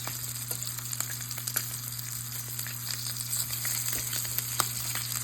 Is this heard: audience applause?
no